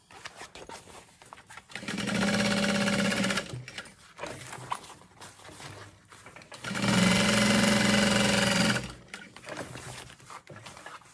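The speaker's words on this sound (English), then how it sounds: "sew it all together along three sides" A sewing machine stitches the lining of a handbag in two steady runs of about two seconds each, a close mechanical hum with quieter fabric handling between them.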